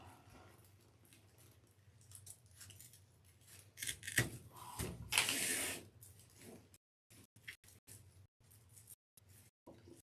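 Scissors snip through floral wreath material on a wing board, a few crisp close cuts clustered together between quieter handling noises, with no talking.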